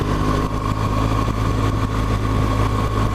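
A BMW R1200GS motorcycle fitted with an aftermarket Arrow exhaust idles with a steady, loud, low rumble, close up and with no voices.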